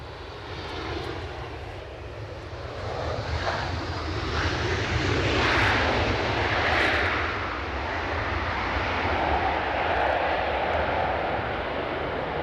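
A Ryanair airliner at Edinburgh Airport roars steadily in a broad, sustained engine wash that swells slightly midway and holds loud throughout, with no talk over it.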